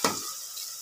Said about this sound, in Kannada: ಇದು ಫ್ರೈ ಆಗ್ತಾ ಇದೆ ಚೆನ್ನಾಗಿ, ಸ್ವಲ್ಪ ಬ್ರೌನ್ ಥರ ಆಗಬೇಕಿದು.